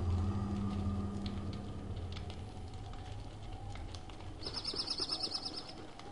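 Birds chirp in the video game Don't Starve, with light scattered tweets over a low background hum and a faster run of repeated chirps toward the end; no one speaks.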